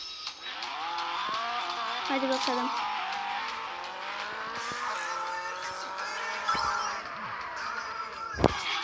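Car engines and squealing tires in a racing video game, a continuous bright engine whine with skids and a sharp crash near the end, under a voice.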